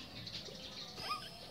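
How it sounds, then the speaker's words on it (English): A small bird chirps faintly in short, high tweets, distant and quiet against a steady background hiss, with no voices during the calls. "Look at the bird."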